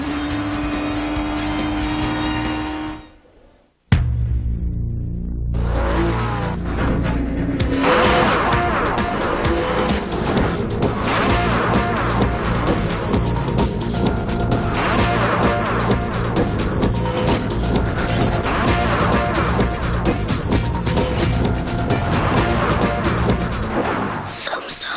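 An onboard race car at the 2003 SCCA Runoffs roars loud and close, engine revving hard through gear changes after a brief dropout, with squealing tires and skidding over a long sustained run.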